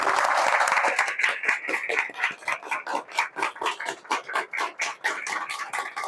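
Audience applause for the national president at a community workers' honour ceremony, starting as a dense burst of clapping, then turning into rhythmic, unison claps pulsing steadily in time, fairly loud and close.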